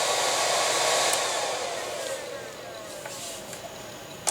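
A Dell 2850 server power supply fan runs with no thermal switch fitted, giving a loud, steady high whir close by that eases slightly in pitch and level, with a few faint clicks.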